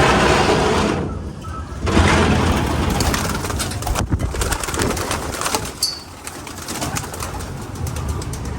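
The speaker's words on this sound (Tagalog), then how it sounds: "paliparin muna natin yung mga kalapati natin mga babae" Domestic racing pigeons coo and flutter nearby over a steady outdoor background, with bursts of wingbeats as birds take off.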